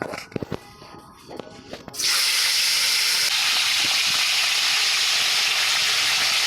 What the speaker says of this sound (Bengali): তেল দিয়ে দিচ্ছি মাছ ভাজবো